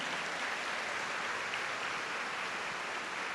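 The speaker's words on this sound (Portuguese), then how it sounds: "Eu queria que você aplaudisse essa verdade." Congregation applauding during a Catholic sermon in São José dos Campos, a dense, even wash of many hands clapping continuously at a distance, with no voices over it.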